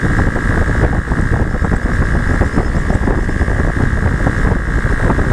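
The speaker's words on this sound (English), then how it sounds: "A lot of wind, going about 92, 95." Wind roars steadily and loudly while a Honda Grom motorcycle runs at top speed around 92 to 98, riding into a headwind, with the engine drone buried in continuous buffeting.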